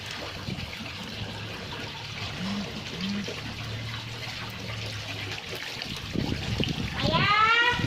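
Water splashing and trickling behind a house near a pond, a steady close flow with a louder burst of splashing at the end, while people talk over it.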